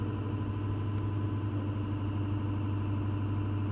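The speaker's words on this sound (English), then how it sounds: "I hear the turbo on." Ford truck engine idling with its turbocharger spooling, a steady close low rumble with a constant hum and a faint higher whine layered over it, unchanging throughout.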